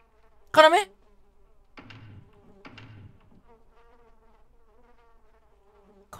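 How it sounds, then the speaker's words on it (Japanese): Faint insect buzzing drones through a quiet horror video game scene, broken by a sharp startled voice near the start and soft low thuds. "うわ虫の音気持ち悪い"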